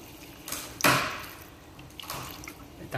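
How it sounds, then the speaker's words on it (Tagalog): A small splash of water poured into a boiling cooking pot for a red bean and fried tilapia dish: one brief, close, splashy pour followed by faint drips and bubbling. "lagyan ko na ng tubig"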